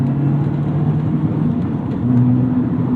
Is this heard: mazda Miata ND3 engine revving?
yes